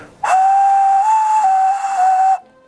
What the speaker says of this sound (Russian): Анархический свисток.